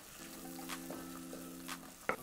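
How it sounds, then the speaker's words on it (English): Onions, garlic and two bay leaves fry softly in a pan, with a steady low sizzle and a few brief scraping stirs, then a sharper clatter near the end. "I'm going to add two bay leaves into the pan with the onions and garlic and stir away."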